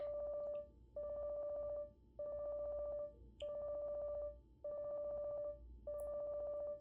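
A phone rings in the Obey Me! Shall We Date? mobile game, sounding as six evenly spaced electronic tone bursts about a second apart, each one bright and steady, over a low murmur of background music.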